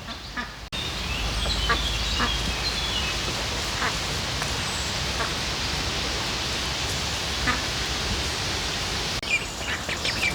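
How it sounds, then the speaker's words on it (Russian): Ducks and geese, including runner ducks, gathered on a rural farmstead in the evening: scattered faint quacks and honks sit under a steady broadband wash of outdoor noise throughout. "Утки уже сами просятся, сами вечером сюда приходят."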